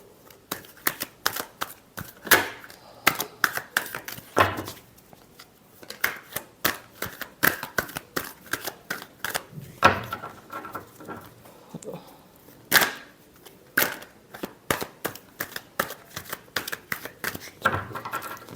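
Tarot cards shuffled in repeated quick riffling bursts, crisp papery flutters and snaps close up, continuing steadily with short pauses and no talk.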